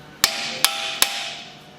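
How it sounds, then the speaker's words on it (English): An old, worn impact driver hammering at seized rotor screws delivers three sharp, loud metallic strikes in even succession, each followed by a brief ringing decay. "I pulled out my old impact driver, which is not nearly as good as it used to be"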